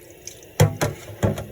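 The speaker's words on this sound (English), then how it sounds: "then you run it under some water" Tap water runs in brief splashing bursts as raw shrimp are rinsed under a kitchen faucet, three short gushes close by, with no talking.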